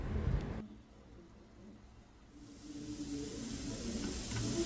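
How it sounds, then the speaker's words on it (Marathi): Water for mutton soup comes to a boil in a pot, giving a steady low hiss and bubbling that drops away briefly, then builds back and grows louder over the final seconds. "मटणाच्याही पाण्याला बॉईल आलेला आहे,"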